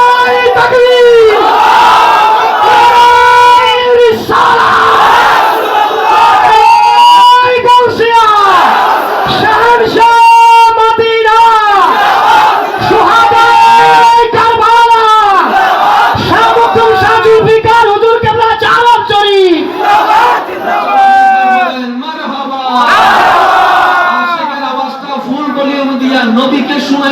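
A large religious gathering answers a preacher's call with the takbir chant, many voices shouting together in loud, rhythmic repeated cries that swell and fall in waves, close and dense with only brief pauses.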